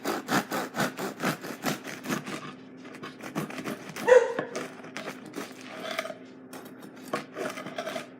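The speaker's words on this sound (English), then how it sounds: "I want you to hear how crusty this bread really is." A knife saws through the crust of a no-knead bread loaf, giving a series of close, rasping, crackling strokes in a steady back-and-forth rhythm that soften and slow toward the end.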